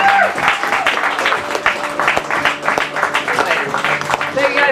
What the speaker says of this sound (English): One more round of applause for everybody out there